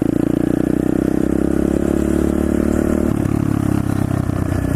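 A Honda pit bike's single-cylinder engine runs loud and close, its rapid chugging rising in pitch as it revs for a wheelie, then dropping back slightly.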